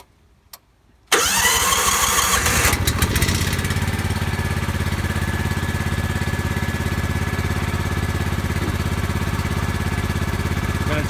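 Exmark lawn mower engine with a suspected voltage regulator fault cranks and catches after a second of near silence, then runs steadily and loudly as its revs ramp up, alone with no talking.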